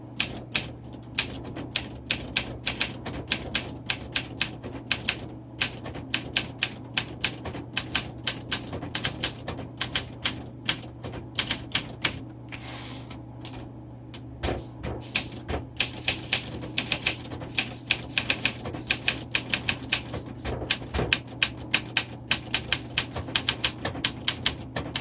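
Rapid, crisp keystrikes on a 1961 Olympia SM7 manual typewriter, a dense uneven clatter of sharp clicks with occasional pauses and a low steady hum beneath, close and loud.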